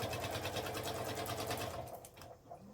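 A sewing machine back stitching a fabric laptop sleeve, a steady rapid needle chatter close up that slows and stops near the end.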